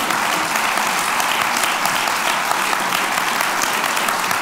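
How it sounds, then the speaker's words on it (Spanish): An audience applauding at a conversation event at a foundation, a dense, even roar of clapping from many hands, loud and sustained throughout without talk. "Un aplauso."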